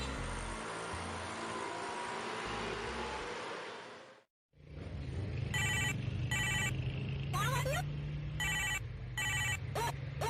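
A telephone rings in repeated short bursts after a brief silence, over a steady engine rumble and background noise.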